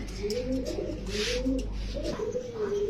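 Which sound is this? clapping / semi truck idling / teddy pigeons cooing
teddy pigeons cooing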